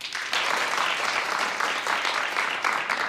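A television studio audience claps loudly for about three seconds, a dense, even wash of applause with no voices over it.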